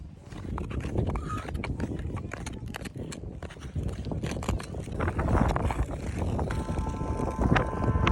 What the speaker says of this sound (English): It's so windy up here. The wind is really blowing me right now.